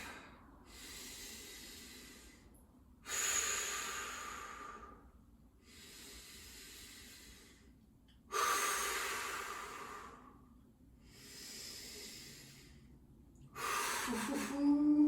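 Deep, slow breathing during a held leg-lift exercise: about five long, close, airy breaths, alternating inhales and exhales in a steady rhythm with no talking.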